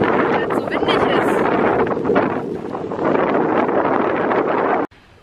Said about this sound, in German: Ich hoffe, ihr könnt mich überhaupt alle verstehen, weil es so windig ist.